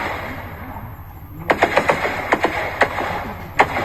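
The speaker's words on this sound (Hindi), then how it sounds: "देखिए ताबड़तोड़ यहाँ पर फायरिंग हो रही है" Rapid gunfire during a Naxal attack in Dantewada: a burst of sharp, irregular shots begins after a quiet stretch, then cracks on at uneven intervals over a steady background rumble.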